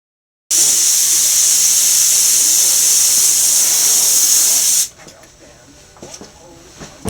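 Duracoat paint sprays onto an AR15 in a loud, close, continuous hiss lasting about four seconds, then cuts off abruptly, leaving faint handling noises.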